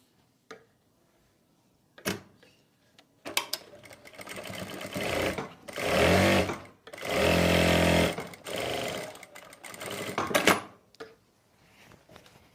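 A sewing machine stitches pleats on a kurti in several loud, rapid bursts of whirring run separated by short pauses, with sharp clicks around them and only faint background voice.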